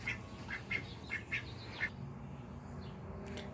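Ducks around a backyard coop quacking in a run of short, nasal calls, several in the first two seconds, then quieter outdoor background with no talking.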